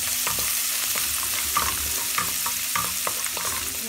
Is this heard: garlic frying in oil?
yes